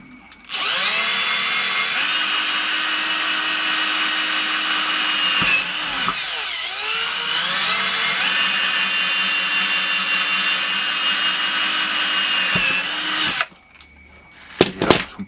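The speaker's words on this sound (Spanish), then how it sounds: "una taladradora" A power drill whirs loudly and steadily for about thirteen seconds, pausing briefly once, then stops; a few faint knocks follow.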